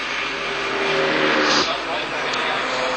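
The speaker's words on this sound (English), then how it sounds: "Car 10 heading the other group through is Kerry Calderbank, who started from 15th place" Formula Vee race cars at Amaroo roar past in a loud, rising and falling engine rush that swells briefly mid-clip, while a commentator talks continuously over the track noise.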